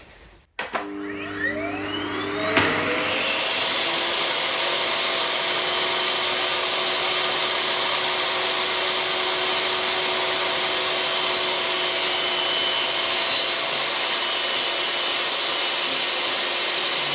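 A shop dust extractor in a woodworking shop spins up with a whine and then runs as a loud, steady, close roar for the rest of the clip, with no talking over it.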